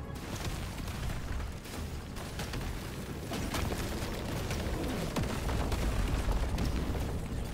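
Swarms of enemies blow up in Deep Rock Galactic Survivor, a dense, nonstop barrage of overlapping booms and pops layered over thick game noise, loud and unbroken from start to finish.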